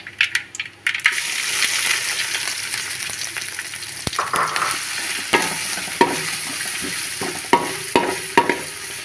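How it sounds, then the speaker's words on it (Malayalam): Steady sizzling of crushed green chillies frying in a hot pan, with occasional sharp clinks and stirring scrapes rising above the continuous crackle. "ഇതിലേക്ക് നമ്മൾ ഇടിച്ച് വെച്ചിരിക്കുന്ന മുളകും എല്ലാം കൂടെ കൂട്ടിയിട്ട് നമുക്കൊന്ന് വറുത്തെടുക്കാം"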